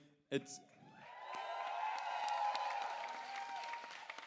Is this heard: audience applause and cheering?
yes